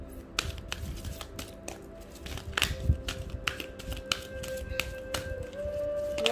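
Rapid papery riffles and sharp taps of a deck of cards being shuffled, close by, in irregular bursts with brief pauses and no talking.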